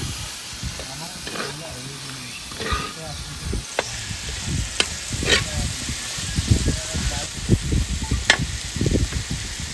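Clams with prawns sizzle and fry on a hot tawa griddle outdoors, a steady hiss with crackling bursts and scraping, while voices talk over it throughout.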